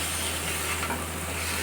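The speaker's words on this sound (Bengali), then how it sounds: "এই যে ভাজা মশলা দেওয়া কচুটা এবার দিয়ে দিলাম।" Boiled taro coated in fried spices being cooked with masala in a pan, a close, even sizzle and soft crackle that holds steady throughout the short stretch, with no voices.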